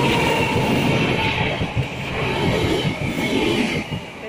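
A train on the Southport to Liverpool line rushing past close by, a loud continuous roar of wheels and rail rumble with a steady rattling clatter throughout.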